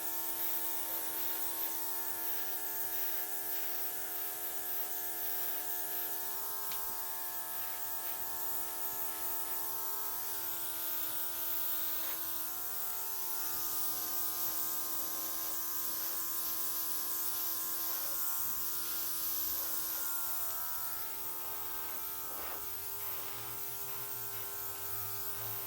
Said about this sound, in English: My airbrush, cordless. I'm going to blow out some of these edges here.